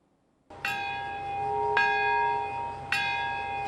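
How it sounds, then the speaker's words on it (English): A large memorial bell tolls at the Nagasaki atomic bombing anniversary ceremony, three loud, resonant strikes, each one ringing out and overlapping the decay of the one before, in otherwise quiet surroundings. "A bell tolls in Nagasaki"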